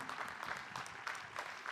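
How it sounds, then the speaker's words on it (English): An audience applauds master's-level business school graduates from the class of 2021 at a commencement ceremony, a steady, moderately faint patter of many hands clapping from across a large space, with no speech over it. "give another round of applause to our master's level students from the class of 2021"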